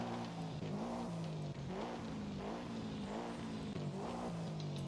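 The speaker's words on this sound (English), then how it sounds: "Let's go ahead and take a look at this exhaust note as well." A car exhaust revving in the racing game Forza Horizon 5, with low engine tones rising and falling in repeated revs. The sound is steady, quiet and alone.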